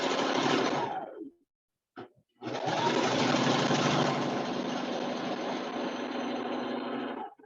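A sewing machine stitching curtain fabric runs loud and close in a steady mechanical whir, stops briefly for about a second with a short blip, then starts again and runs steadily to the end.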